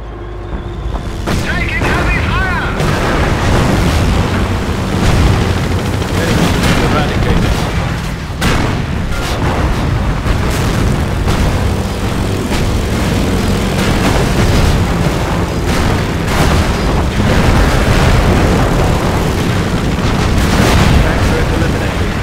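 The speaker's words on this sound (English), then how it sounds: "With this ability, Henschel aircraft will fly by the target location, targeting all enemies within their flight path." Henschel aircraft airstrike in the video game Company of Heroes: dense, loud battle noise with repeated booming explosions and rumbling blasts, gunfire crackling between them, sustained for the whole stretch.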